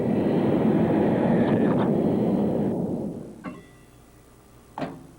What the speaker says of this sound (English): The plane is now doing nearly 500 knots straight down towards the sun-baked rocks below.